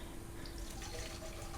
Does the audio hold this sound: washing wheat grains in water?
yes